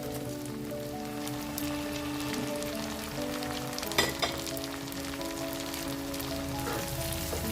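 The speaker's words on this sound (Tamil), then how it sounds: "வெங்காயம் நல்லா வதங்கணும் அடுத்து தக்காளி" Onions sautéing in oil in a pan for a Chettinad fish curry make a steady, close crackling sizzle with a brief louder clatter near the middle, over faint background tones.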